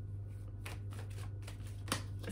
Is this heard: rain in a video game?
no